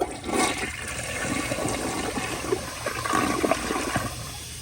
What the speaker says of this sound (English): So it has a really powerful flush, and I will show y'all that now.